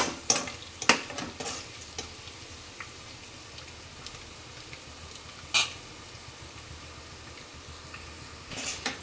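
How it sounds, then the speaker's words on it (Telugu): Onions, dried chillies and curry leaves deep frying in oil for a fish curry, a steady fizzing sizzle with scattered crackles and a few louder pops, heard alone without any voices. "ఇందులోకి ఆనియన్స్ ఒట్టిమిరపకాయలు కరివేపాకు బాగా డీప్ ఫ్రై చేస్తున్నానండి"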